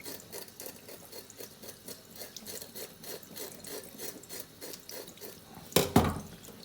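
Rough, rhythmic scraping strokes repeat rapidly, a rasping sound of scales being scraped off horse mackerel, followed by a brief louder clatter near the end.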